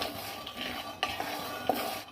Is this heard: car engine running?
no